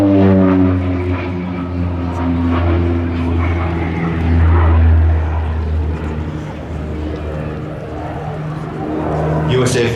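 A North American Rockwell OV-10 Bronco flies at an air festival, its propeller engines giving a loud, steady, deep droning hum that swells and eases over ten seconds, with a voice faintly present.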